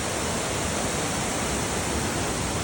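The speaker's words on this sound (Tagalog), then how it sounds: "Ayan na ang falls. Ang ganda, oh." Alitap Falls in Quezon, Philippines roars as a dense, steady broadband rush of falling water, loud and close, with no talking over it.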